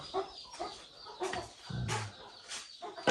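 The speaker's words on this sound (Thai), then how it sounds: "เสียงไก่กับ" Chickens cluck in short, soft bursts, a few scattered calls from nearby with quiet pauses between.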